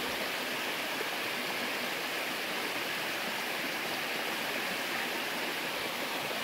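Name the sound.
river flowing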